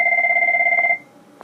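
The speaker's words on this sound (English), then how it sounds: "Sorry about the phone." A telephone rings once with a steady two-tone electronic warble during a precalculus lesson, clear and fairly close, then stops abruptly with a quiet room behind it.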